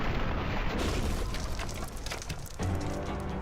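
Missile lightning explosions in the Infamous 2 video game: a dense, continuous barrage of loud rumbling blasts and crackles, heavy and sustained throughout, with no voices over it.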